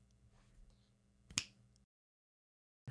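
A single sharp finger snap rings out close and crisp against a quiet room tone, followed by silence.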